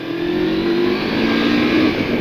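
A CFMOTO 650 MT motorcycle accelerates hard to overtake on a mountain road, its engine note rising in a strong, close, continuous rev over about two seconds.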